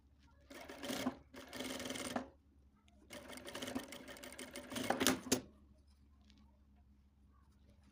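Sewing machine stitching a half-zip front-closing garment, running in two separate bursts of steady mechanical whirring with a short pause between them and quiet afterward.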